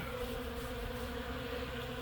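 A steady, low buzzing drone of a swarm of honey bees at a hive in January, constant and fairly faint, with no voices.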